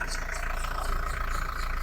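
A car engine with blow-by and a clogged ventilation valve idles nearby in a steady low hum just before being switched off.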